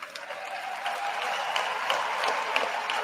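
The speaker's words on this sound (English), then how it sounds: "they're back there clapping like trained animals" An audience at a Joe Biden speech applauds in a steady, fairly distant wash of clapping that builds slightly and holds for a few seconds.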